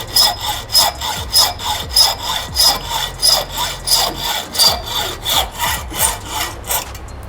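Hand saw cutting through metal to shorten a part for a 2023 BMW S 1000 RR motorcycle, loud close back-and-forth strokes in a steady rhythm, about two strokes per second, with a high rasping edge.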